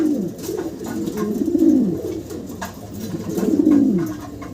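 Pigeons cooing in a pair of large, active fancy birds, with repeated low throaty rolling coos in two clear phrases, close and fairly loud over a steady murmur of background noise.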